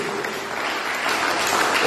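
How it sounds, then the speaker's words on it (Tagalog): A church congregation at a youth fellowship gives steady, dense applause that fills the space evenly throughout and swells slightly at the end, with some voices mixed in. "Yung malakas na palakpak sa Panginoon."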